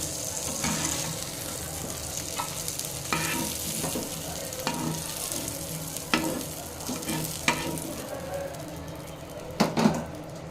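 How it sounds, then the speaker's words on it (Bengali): Brinjal (eggplant) slices fry golden brown in hot oil in a kadai, giving a steady close sizzle with scattered clinks and scrapes of a spatula. "তো একটু গোল্ডেন ব্রাউন করে বেগুনটাকে ভেজে নিতে হবে।"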